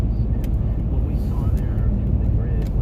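A 1998 Ford Mustang with a stock 3.8 liter V6 engine runs with a steady low rumble, heard close and continuous from inside the car on a morning drive.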